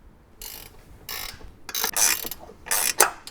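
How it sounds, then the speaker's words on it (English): Wrench ratcheting down 10mm bolts on a roof rack rail of a Toyota Tacoma, several short bursts of metallic clicking and ratcheting heard close up, with brief pauses between strokes. "we can go ahead and tighten down the 5 bolts using a 10mm wrench"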